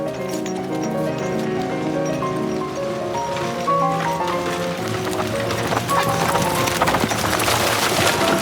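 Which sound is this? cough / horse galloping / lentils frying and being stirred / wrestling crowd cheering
horse galloping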